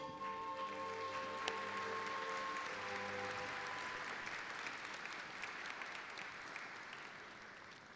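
Audience applause at a Kanagawa University graduation and degree conferral ceremony, a steady, dense wash of clapping filling the hall for the whole stretch, with sustained background music tones under it at the start before fading out.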